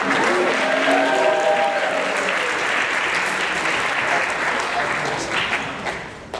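Steady audience applause fills a room during a maritime archaeology talk, dense and sustained, with voices murmuring underneath before it tapers off near the end.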